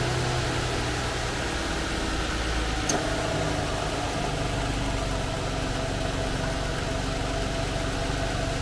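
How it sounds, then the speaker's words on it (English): A Jaguar S-Type car engine, warmed up to operating temperature, idles steadily with a constant low rumble and hum, close by and unchanging throughout, with no voices. "the car engine is now up to temperature"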